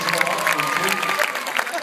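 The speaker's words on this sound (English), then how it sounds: "Nice round of applause for Christian." Audience applause at a high-school Project Grad hypnotist show, a steady dense wash of clapping filling the short moment with faint voices mixed in.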